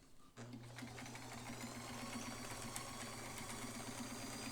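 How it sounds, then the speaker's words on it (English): A vintage sewing machine with a stiff stitch length control starts up and runs a long straight stitch, giving a steady, even mechanical hum and rapid clatter that carries on unbroken and close. "we are going to sew a long straight stitch"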